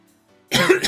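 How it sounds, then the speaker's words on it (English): A single sharp cough and throat clear from a man, close and loud, coming abruptly after a brief near-silence. "Yeah, man, I really have to clear my throat."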